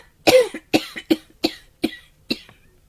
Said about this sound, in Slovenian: Na postelji je fantek vročično pokašljeval.